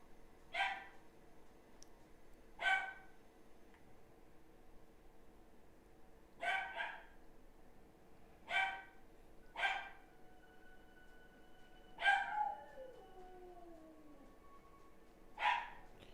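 A dog gives about eight short, separate barks and yips spread over several seconds, moderately near, with one bark trailing into a falling whine, over a quiet room hum and no talking.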